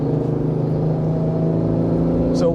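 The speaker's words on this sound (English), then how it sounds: "So wide open throttle, let's go." A Jeep Wrangler with a Banks Ram Air intake at wide-open throttle climbing a freeway grade, heard as a loud steady low engine drone and rumble from inside the cab.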